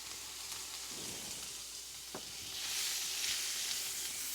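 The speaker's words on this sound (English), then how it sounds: "Add your chopped shallots." Chopped shallots sizzle in a hot pan, a steady close frying hiss that swells louder toward the end, with a brief stir or tap partway through.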